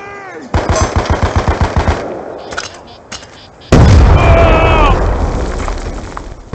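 Rapid bursts of close machine-gun fire rattle in a steady rhythm, then a loud, heavy grenade blast booms up close and rolls off, in Call of Duty Black Ops 2 on the Cove map.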